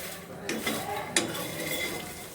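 Papad is reheated and stirred in a pan, with a faint dry sizzle under a few light scraping and clinking strokes of a utensil against the pan.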